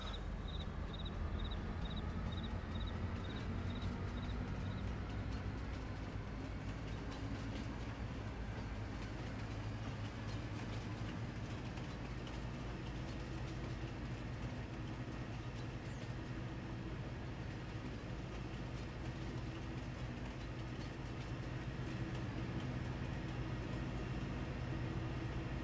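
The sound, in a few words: train running in video game Farming Simulator 22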